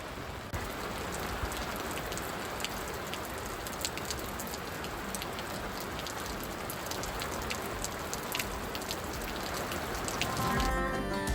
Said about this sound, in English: As we watched the rain come in, we quickly rolled the awning out